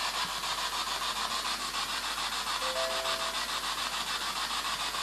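An SLS camera device emits a steady, loud hissing, static-like rush that fills the whole stretch without pause, with a faint brief tone partway through and no talking, in a manor setting.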